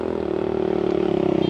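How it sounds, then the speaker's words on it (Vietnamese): A motorcycle rides up a riverbank along the Red River, its engine giving a steady, close droning hum with a quick pulsing throb throughout. "xem anh xe máy lên cho nó như thế này"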